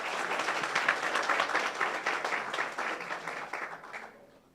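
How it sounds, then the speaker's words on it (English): Audience at a research-week plenary session in a conference centre claps for participants, a dense round of applause that holds steady, then fades away toward the end. "Clap hands so they smile."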